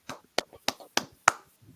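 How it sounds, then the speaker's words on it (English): Five sharp, evenly spaced hand claps in unison from a brotherhood class group, loud and close, separated by brief silences. "Clap it up."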